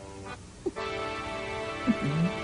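A person imitates a goose with nasal honks, two or three short calls close by in a quiet room.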